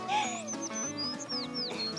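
A high voice imitates bird chirping with quick, repeated rising and falling tweets, close and fairly loud, over a steady tonal background.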